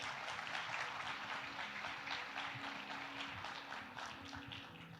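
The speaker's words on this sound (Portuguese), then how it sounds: "Pode aplaudir ao Senhor." A church congregation claps in praise, a soft, somewhat distant spread of many hands with a low hum of instruments or voices beneath, fading slightly toward the end.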